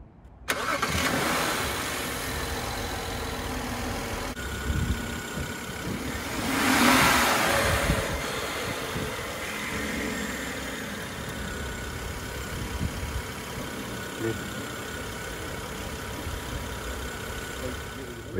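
A BMW E60 xDrive fitted with dual cone air intakes cranks, catches and settles into a steady idle with a brief swell around the middle, the engine sound continuous and close throughout.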